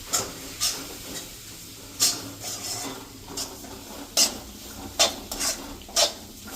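Ingredients such as lemon juice and gram flour are mixed in a pan for puffed-rice khichdi, heard as close scraping and rasping strokes of a spoon in a rhythmic series of short bursts, with no talking.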